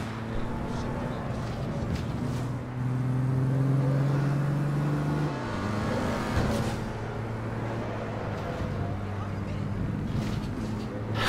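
A car drives in APB Reloaded, its engine humming and revving steadily with a pitch rise and drop midway, while someone talks over it throughout.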